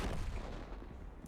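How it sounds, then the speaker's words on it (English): An enemy tank gun fires in World of Tanks, a single heavy booming blast with a rumbling low tail decaying over about a second. "He'll shoot me again."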